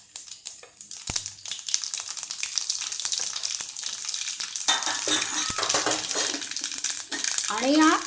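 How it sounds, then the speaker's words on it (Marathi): Mustard seeds, asafoetida and red chillies sizzle in hot oil for a tempering for Vidarbha-style khichdi, a steady crackling hiss through the whole stretch with a few sharper pops, close and fairly loud. "तेलामध्ये मोहरी हिंग आणि लाल मिरच्या घातल्या जातात"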